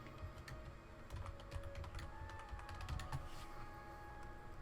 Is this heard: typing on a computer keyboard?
yes